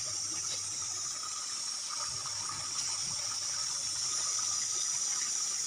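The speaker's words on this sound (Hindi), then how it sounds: "फिर इसमें दूंगा थोड़ा बहुत पानी" Water pours steadily into a pan of curry cooking on the stove, producing a continuous splashing hiss that stays fairly even and close throughout, with no talking.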